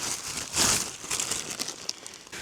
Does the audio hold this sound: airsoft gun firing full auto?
no